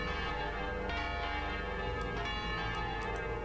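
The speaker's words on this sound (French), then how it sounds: "ces grandes cloches se remettent à sonner" Large church bells ring steadily and loud throughout, their strikes overlapping into a dense, sustained wash of tones with no voices.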